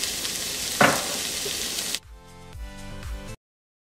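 Onions fry with salt in oil for a salmon curry, a loud, dense sizzle with a brief stirring scrape, then a sudden drop to a quieter, softer frying sound before it stops.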